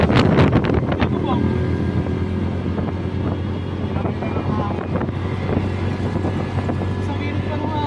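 Heavy buffeting wind noise on the microphone while riding a motorcycle in Pasig City, a constant roar over low engine drone, with brief voices near the start.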